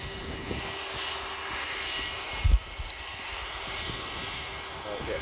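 A Jetstar jet airliner at Sydney airport makes a steady distant roar of aircraft engines, with a low thud partway through and faint talk nearby.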